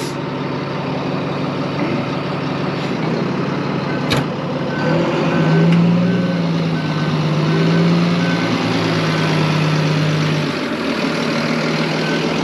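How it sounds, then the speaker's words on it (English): A farm truck running in 6-wheel drive idles and rumbles nearby with a low heavy engine note, while faint regular reversing beeps repeat in the background and the engine swells briefly mid-way. "let's try out the truck now."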